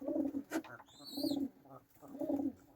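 Soft, throaty coos from sick pigeons repeat in a slow rhythm, with a brief higher chirp between them, close and fairly quiet.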